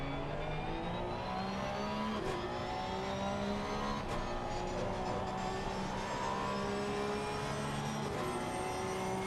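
Porsche Cup race cars in a GT3 sim racing game at Silverstone, engines revving steadily with layered high-pitched harmonics and shifting pitch throughout, loud and continuous with no talk.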